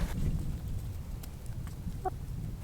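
Backyard hens cluck softly at a moderate distance, giving a few short, scattered clucks over a low, murky background without any speech.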